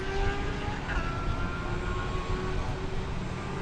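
A Super Cargo Master cargo airplane taxiing at DFW Airport gives off a steady, droning engine hum with a faint whine on top. The sound holds at an even loudness throughout, with no one talking.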